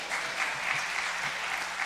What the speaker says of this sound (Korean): 여러분 누군지 알고 박수 치시는 거예요?